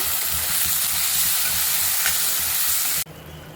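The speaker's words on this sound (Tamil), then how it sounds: "இதையும் சேர்த்து நல்லா வதக்கிக்கோங்க" Chopped tomatoes and green chilies sautéing with onions in a pan for an Andhra-style anchovy fish gravy, a loud continuous sizzle with stirring scrapes that cuts off abruptly near the end.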